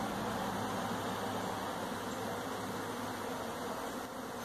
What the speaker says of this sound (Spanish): Mucha abeja volando y mucho pillaje.